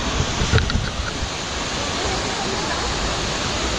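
The Jang waterfall in Arunachal Pradesh roars as a broad, steady rushing wash of falling water, loud and continuous, with a brief knock or bump near the start.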